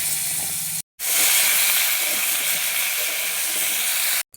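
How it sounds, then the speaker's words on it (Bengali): Potatoes fry in hot oil in a wok with a loud, continuous hiss and sizzle, cut by a brief silent gap near the start and again at the very end. "আলুগুলো ভেজে নিচ্ছি।"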